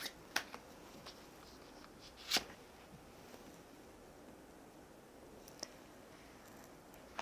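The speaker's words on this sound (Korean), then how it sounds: "소울 메시지 카드 뽑아보겠습니다" Tarot cards are shuffled and drawn in a quiet room, giving soft papery riffles and a few sharp card snaps spaced out over several seconds.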